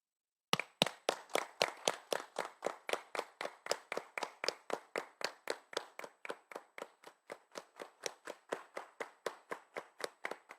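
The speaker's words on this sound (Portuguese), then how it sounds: "Vamos nos colocar em pé, aplaudirmos." A standing audience at a municipal council session claps in unison, a loud, regular rhythmic beat of sharp hand claps that starts abruptly and continues steadily for about ten seconds, gradually softening toward the end, with no talking.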